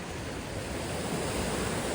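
Sea waves wash onto a Tenerife beach in a steady, close, continuous roar of surf that fills the whole stretch, with no voices.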